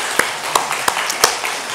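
A church congregation claps in a sparse, uneven patter, a handful of sharp distinct claps spaced apart over a quiet room rather than full sustained applause.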